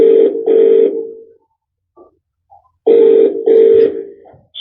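An outgoing phone call rings back through a Portronics Decibel 21 10W wireless Bluetooth soundbar: two paired, loud, buzzing ring tones, a gap of near silence, then another double ring, close and clear.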